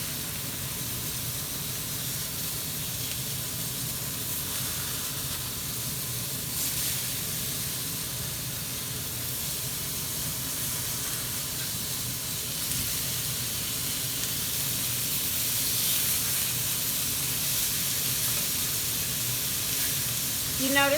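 Burgers sizzling in a hot, ungreased pan with a spice coating, a steady close hiss and crackle that runs throughout the clip, with a faint voice speaking underneath at times.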